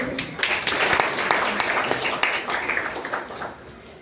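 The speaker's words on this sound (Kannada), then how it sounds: "ಒಂದು ಜೋರಾಗಿ ಚಪ್ಪಾಳೆ" An audience gives a school student loud applause for passing the NMMS and 10th-standard exams, a dense wash of many hands clapping steadily for about four seconds and fading slightly at the end.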